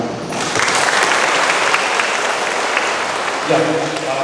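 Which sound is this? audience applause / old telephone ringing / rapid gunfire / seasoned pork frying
audience applause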